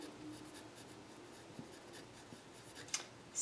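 A pen or pencil writes out a math problem on paper, faint soft scratching strokes close up with a few light taps, in a quiet room.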